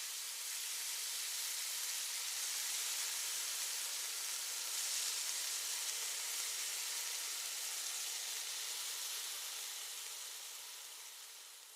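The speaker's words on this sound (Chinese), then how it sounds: "翻炒1分钟的时间，把葱段倒进去，翻炒出葱香味就可以出锅了" Loofah and egg with scallions stir-frying in a wok, giving a steady, close hiss and sizzle that holds evenly throughout and tapers slightly at the end, with no voices.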